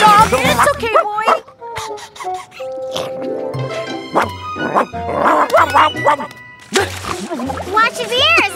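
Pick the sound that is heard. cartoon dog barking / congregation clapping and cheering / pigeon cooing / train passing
cartoon dog barking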